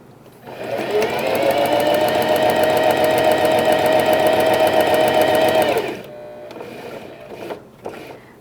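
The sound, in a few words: sewing machine stitching a wide topstitch on a pet bandana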